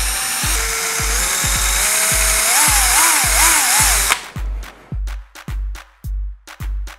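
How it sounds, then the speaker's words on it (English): A power drill bores a hole through a door chime casing. First comes a sustained high whine whose pitch rises and wavers, with rhythmic low thumps underneath. Then the whine stops and short, close-up bursts of drilling follow, with no talking. "you will need to drill a hole for the wires to come through"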